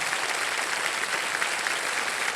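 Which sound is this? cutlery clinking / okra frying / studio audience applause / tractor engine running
studio audience applause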